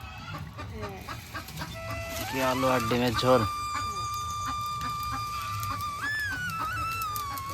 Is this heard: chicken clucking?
yes